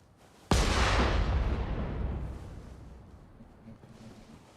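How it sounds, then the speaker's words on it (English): A single heavy cannon blast in the video game Nioh 3, a sharp loud boom that rolls off into a long fading rumble over several seconds. "Anything else I can use these cannons for?"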